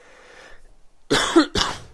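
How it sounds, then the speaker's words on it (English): Two harsh coughs sound close up, one right after the other, following a quiet pause. "Still have this lingering cough that I've had in the last couple of videos."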